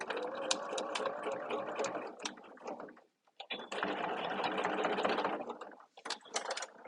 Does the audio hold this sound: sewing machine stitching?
yes